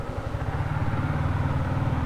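A motorcycle engine rumbles loud and close as the rider sets off on a road, a steady throbbing low drone with no pause and no talking.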